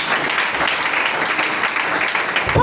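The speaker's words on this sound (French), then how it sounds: "Acclame Jésus." A church congregation applauding Jesus, a short burst of dense, loud, continuous clapping that fills the whole space evenly.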